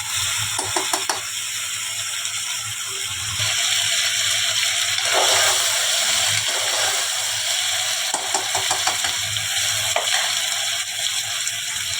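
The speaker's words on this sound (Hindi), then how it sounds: "सब्जियां डाल के हम 2 से 3 मिनट अच्छे से अपनी सब्जियों को भून लेते हैं" Mixed vegetables sauté in a pan with a continuous loud hiss and sizzle, punctuated by clicking, scraping stirs of a spoon at irregular intervals.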